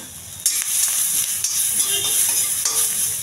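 Onions, cumin, curry leaves and green chillies fry in a little oil, a bright close sizzle with repeated scraping stirs of a spatula throughout, no voices.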